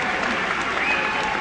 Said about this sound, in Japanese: 拍手が沸き起こります。